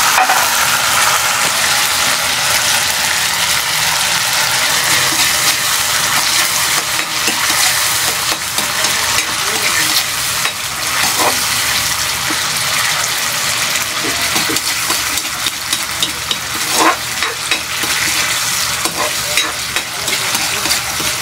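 Sardines with sautéed aromatics sizzling and frying in a pan, a loud, continuous crackling hiss broken by scraping stir strokes, with no voices.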